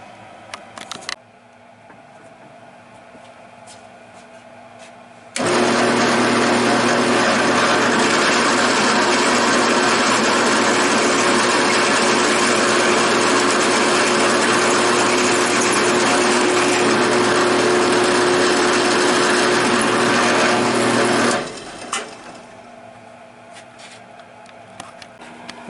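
A drill with a bit boring a pivot hole in a utility cart leg support runs steadily at high speed for about sixteen seconds, loud and close, then stops.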